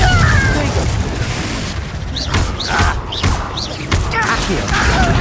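Glacius and Confringo spells fire off in the video game Hogwarts Legacy in a chaotic fight, several sharp bursts and crashes landing in quick succession over dense combat noise.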